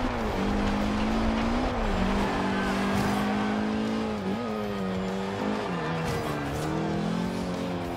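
A small Audi in the racing game Forza Horizon 2: Storm Island revs hard from the cockpit view, its engine note climbing and dropping through several gear shifts over a steady roar of road and tire noise.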